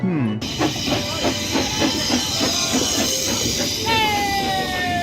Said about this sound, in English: Eventually the boat train pulled into the station.